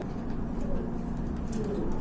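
A pair of Jhorna Satin pigeons coo with low, rolling calls that continue without a break, close by and moderately loud.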